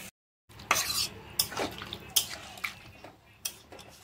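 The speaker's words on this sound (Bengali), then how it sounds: "এবার আমি জলটা দিয়ে দেবো" Water poured into a cooking pan of curd-coated jackfruit, heard close as splashing bursts and clinks of a utensil against the pan, a few distinct pours and taps, no voices.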